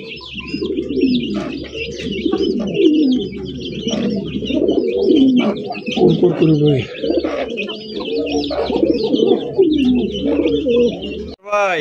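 Many fancy pigeons, including a rare-coloured Mundi pigeon, coo and burble close by at a pigeon farm in overlapping low calls, with high chirps scattered above, continuing throughout.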